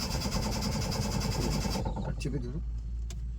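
A car engine turns over and runs loudly with a rough, throbbing roar, then drops away, while people talk over it during a driving lesson.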